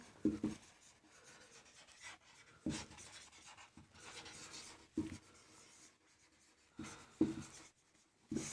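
Chalk or marker strokes on a classroom board come in short scratchy bursts separated by pauses, quiet and close, as a word is written out letter by letter.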